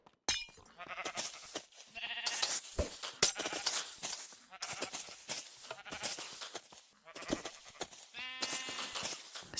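Blocky sheep in the Cobblemon Minecraft modpack bleat repeatedly in bursts across the stretch, close and fairly loud over a busy game soundscape of steps and clinks.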